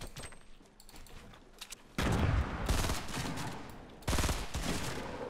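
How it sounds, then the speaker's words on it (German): Gunfire in the battle game Fortnite rings out as two loud, sustained bursts of rapid shots, with quieter clicks and keyboard tapping before the first burst. "Dann wird man geschossen von Jerome."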